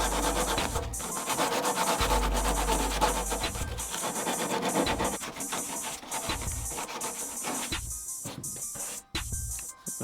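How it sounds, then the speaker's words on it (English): Hand sanding smooths the cut handle opening of a wooden plyo box: steady, close scratchy rubbing in repeated back-and-forth strokes, with brief pauses near the end. "now we're just going to clean it up and then we'll sand it off."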